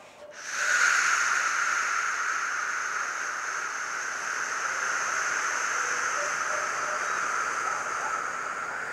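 A long, steady exhale hisses out close to the ear for several seconds, airy and even without pause.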